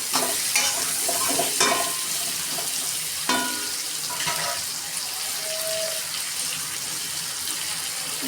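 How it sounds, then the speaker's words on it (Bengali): Potatoes frying in oil with salt and turmeric for an egg and eggplant dish, a steady close sizzle with a few utensil scrapes and clinks early on. "এখন এটাকে ভালো করে লাল লাল করে ভেজে নেব"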